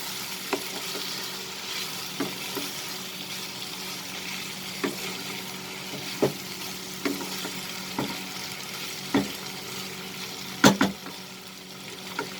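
Chicken and French beans sauté in a pan with soya sauce, giving a steady sizzle with sharp, regular scrapes and clicks of stirring close by, no voices.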